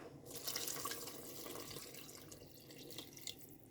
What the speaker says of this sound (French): Le petit broc en verre. Alors, couvrir d'eau.